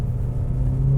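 A 2021 Ferrari Roma drives on wet monsoon roads in India, its engine giving a steady, close low drone and rumble that swells slightly toward the end, with no voices.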